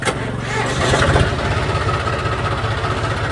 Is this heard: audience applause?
no